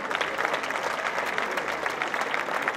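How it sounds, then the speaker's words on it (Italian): A crowd applauds steadily, dense clapping that carries evenly throughout without pause. "della meravigliosa maestra Giusy Di Maio, a cui va un caloroso applauso."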